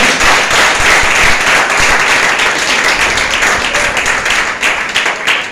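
Sustained applause from a church congregation, steady dense clapping that continues for several seconds with no voices rising above it.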